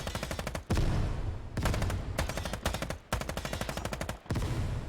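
Sustained full-auto rifle fire rattles out in the tactical shooter Ground Branch, with loud, rapid bursts separated by brief pauses, close and alone without talk.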